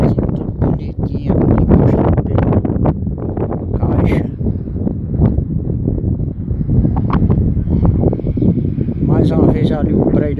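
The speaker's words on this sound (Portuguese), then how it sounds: "Desculpa aí o vento que está meio forte, né?" Strong wind buffets a microphone outdoors beside road construction in Petrolina, a loud, continuous rumbling roar under someone talking almost the whole time.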